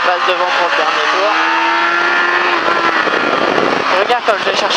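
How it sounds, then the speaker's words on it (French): A motorcycle on a race track during a riding course at La Ferté Gaucher accelerates out of a cone turn, its engine note climbing steadily and then revving again, with a voice speaking over it. "Comme ça je peux relever la moto et accélérer."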